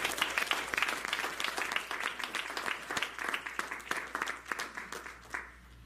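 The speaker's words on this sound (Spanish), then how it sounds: "Denle un fuerte aplauso al Señor." A church congregation claps during a sermon, a fairly close burst of many hands with distinct individual claps, loud at first and gradually thinning and fading toward the end.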